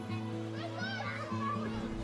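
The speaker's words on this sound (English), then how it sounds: "children playing," Children play outdoors, their high, overlapping voices calling and chattering at a moderate distance over a continuous low background drone.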